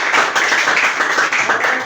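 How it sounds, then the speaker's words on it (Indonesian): A classroom group claps their hands together in a brief burst of fairly loud, uneven clapping that lasts about two seconds. "Tepuk tangan."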